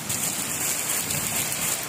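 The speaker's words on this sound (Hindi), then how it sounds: "तो देखिए बहुत तेज़ वाली बारिश हो रही है और तेज़ बारिश हो रही है" Heavy monsoon rain pours steadily in a dense, even hiss with no breaks, loud and close with no talk over it.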